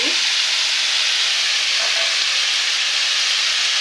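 Spice masala for a roast frying in a pan, giving a loud, continuous close-up sizzle with a steady hiss throughout and no talking.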